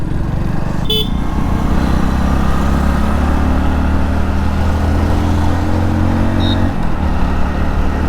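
A Hero Splendor motorcycle riding along a road near Kanakapura, its steady engine drone loud and close throughout, with two brief high horn-like toots from traffic early and late in the ride.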